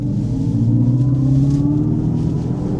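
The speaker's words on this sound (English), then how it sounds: "We're gonna give you a little acceleration feel here." A 2024 Dodge Charger Daytona EV accelerating on slippery roads, a steady low rumble of road and tire noise with a faint rising electric motor whine, heard from inside the cabin.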